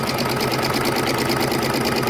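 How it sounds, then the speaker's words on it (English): A sewing machine runs steadily, stitching fabric pieces together in a fast, even mechanical rhythm, loud and close with no talking. "We're going to sew."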